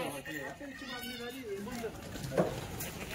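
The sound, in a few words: goats bleating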